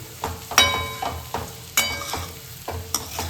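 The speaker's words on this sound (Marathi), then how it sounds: "कुडेचा भुगा चांगला मिक्स करून घ्यायचा आहे आपल्याला" A spoon scrapes and stirs kurdai bhaji mixed with ground peanuts in a hot pan, in soft, repeated strokes with faint clinks of metal, over a low sizzle, and no talk.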